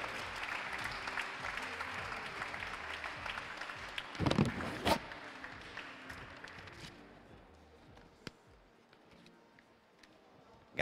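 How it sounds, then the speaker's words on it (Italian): Applause from the audience at the finals of the 2023 Italian Bouldering Championship in Forlì, a broad wash of clapping that swells around the middle, then thins and fades toward the end. "un grazie forte che dovete tradurre in un applauso bellissimo per tutte queste persone"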